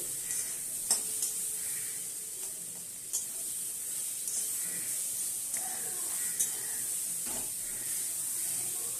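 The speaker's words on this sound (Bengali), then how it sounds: "পাঁচফোড়ন শুকনো লঙ্কা তেজপাতা আমের টুকরো ভাজা করে নিলাম একসাথে" Mango pieces frying in oil with panch phoron, dried chilli and bay leaf, a soft continuous sizzle broken by occasional clicks and scrapes of a spatula stirring the pan.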